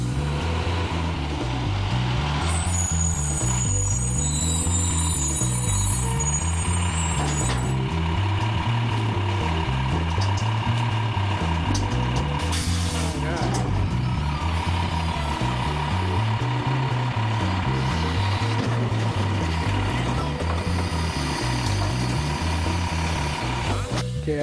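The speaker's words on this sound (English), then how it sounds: "it'll give you a demonstration on how these trucks work" New recycling collection trucks at work, with a steady diesel engine rumble, repeated reversing beeps and a hiss of air brakes throughout, loud and close.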